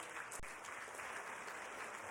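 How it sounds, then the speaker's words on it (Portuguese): A church congregation applauds during a worship service, a quiet, distant-sounding patter of many hands that holds steady throughout, broken once by a single sharp knock. "Vamos aplaudir o Senhor por essa segunda pessoa."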